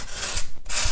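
A coarse rasp scrapes and tears through carving foam in two quick back-and-forth strokes, a close, loud rough rasping separated by a short pause.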